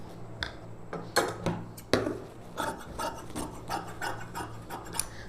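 Scissors cutting the embroidered border off blouse fabric, a series of close crisp snips and rasping slides at an irregular pace, with no talk.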